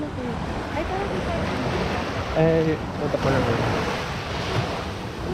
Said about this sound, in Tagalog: Pero yung tunog ng agos, ay tunog ng alon, paparinig ko na lang sa inyo.